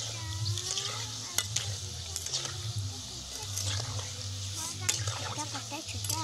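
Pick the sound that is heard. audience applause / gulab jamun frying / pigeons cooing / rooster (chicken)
gulab jamun frying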